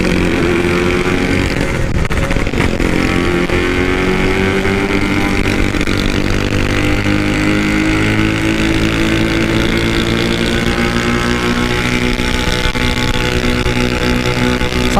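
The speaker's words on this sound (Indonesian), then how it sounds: "ternyata knalpotnya Ojan nembak-nembak juga" A carbureted motorcycle with an aftermarket exhaust revving hard on a night ride, loud continuous engine drone rising and falling in pitch with crackling exhaust pops mixed in; no talking.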